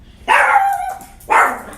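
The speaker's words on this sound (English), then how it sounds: "my dog had to bark because I'm recording" A dog gives two loud, close barks about a second apart, each a sharp burst with a brief tail, with near silence between them.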